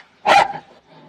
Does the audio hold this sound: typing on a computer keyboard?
no